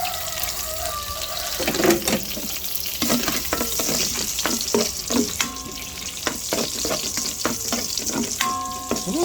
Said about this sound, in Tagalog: Then, maggisa na po tayo.